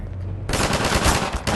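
Sudden loud burst of rapid automatic gunfire in the video game Half-Life 2, sustained and dense after a brief low rumble.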